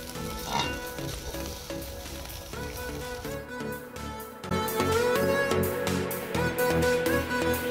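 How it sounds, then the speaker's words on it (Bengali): Fried rice sizzles and fries steadily in a large pot at an outdoor winter picnic, with stirring scrapes and a louder burst of crackling in the second half. "ফ্রাইড রাইস হচ্ছে, ফ্রাইড রাইস।"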